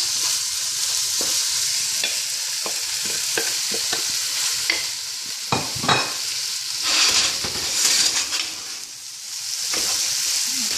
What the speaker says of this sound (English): Stir all the vegetables together.